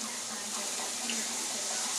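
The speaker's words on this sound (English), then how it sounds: "in your pan with some preheated oil in it, or preheated pan, you're gonna drop your tortillas" Tortillas fry in a pan of preheated oil for tostadas, making a dense, steady hiss and sizzle that stays level throughout.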